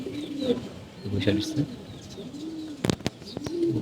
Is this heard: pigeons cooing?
yes